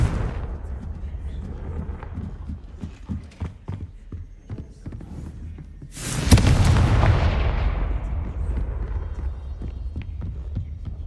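A Confringo spell in the Hogwarts Legacy video game: a sudden loud blast bursts in midway through, followed by a sustained roaring rumble that slowly fades, after a stretch of softer game effects and thuds.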